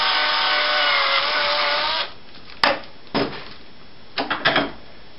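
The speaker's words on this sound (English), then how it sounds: "So you drill through," A power drill bores through a tube for a homemade vortex tube, a loud whining grind for about two seconds, then a few short bursts and taps as the bit breaks through.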